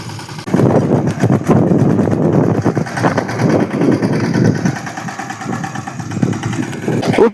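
Tractor engine running in a farm field, a steady close chugging drone that rises after a brief quiet start and holds throughout, with no talking.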